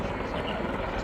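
A V-22 Osprey tiltrotor flying at the RIAT airshow gives off a steady, broad rotor and engine roar that holds constant and fairly loud through a brief moment.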